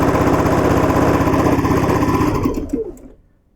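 A sewing machine runs steadily, chain-stitching quilt pieces for a Cotton Cuts Hollyhock Village Green quilt. The close, loud, even whir lasts a few seconds, then slows and stops.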